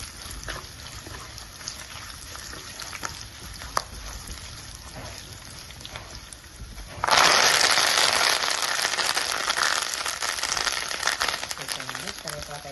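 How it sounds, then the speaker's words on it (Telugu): Curry leaves dropped into hot oil while tempering tomato dal: a quiet kitchen suddenly bursts into loud, close sizzling and spluttering that continues steadily, with a voice talking in the background. "ఇప్పుడు నెక్స్ట్ కరివేపాకు వేస్తున్నాను."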